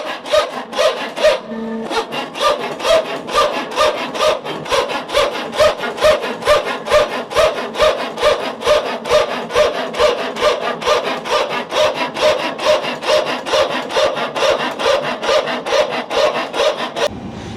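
An aircraft hydraulic power transfer unit runs while the green system is pressurized by a ground hydraulic cart. It barks in a loud, steady rhythm of harsh pulses, roughly two per second, nearby and continuous.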